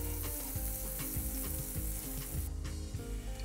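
A touch of butter sizzles steadily in a hot pan with rendered fat while breakfast tacos are made, a loud continuous frying hiss with no talking.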